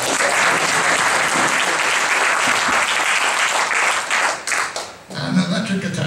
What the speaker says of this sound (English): How about a big hand for Rick Sobadash